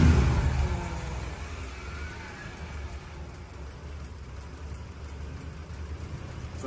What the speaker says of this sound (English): So it started, but what will happen now is the revs will pick up.